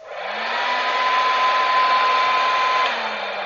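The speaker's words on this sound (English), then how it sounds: "it's actually pretty easy to blow dry her hair." Hair dryer blowing hair, a loud close steady whirring roar with a high whine, swelling up at the start and easing at the end.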